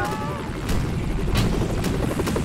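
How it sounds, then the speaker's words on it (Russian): Helicopter from the video game Tales from Space: Mutant Blobs, a steady low rotor drone throughout with brief whooshing game effects layered on top, moderately loud. "Так, вертолет, иди сюда."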